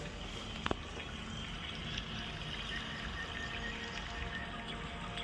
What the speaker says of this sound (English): So there's water actually moving through their hands.